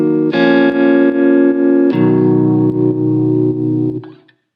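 Software jazz guitar through a clean amp effect strums two sustained, warm chords that ring out fully before decaying, up close with no talking.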